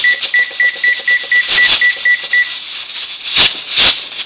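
A kitchen timer lets out a quick string of about ten evenly spaced, high electronic beeps, close and clear, followed by a few broader clattering noises in a quiet kitchen.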